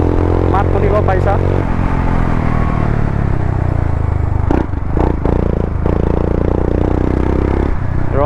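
A Royal Enfield Himalayan 411 motorcycle fitted with an Akrapovic exhaust idles close by with a steady, deep rumble, while someone talks over it almost throughout.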